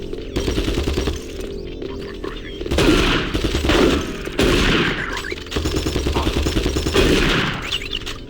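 Enemy gunfire in the shooter game Doom 3 comes in loud, rapid bursts of repeated shots, separated by brief lulls, with heavy impacts and crashes mixed in.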